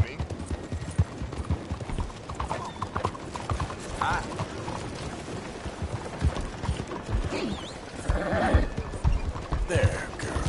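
Hooves clip-clop steadily in the Red Dead Redemption 2 video game as a horse is ridden, with whinnies and neighs breaking through, while in-game characters talk and shout over it.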